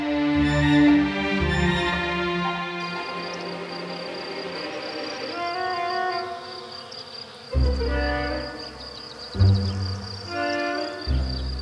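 A steady bee buzzing drone from the cartoon Maya the Bee fills the clip, with a few deeper thumps and rumbles breaking in toward the end.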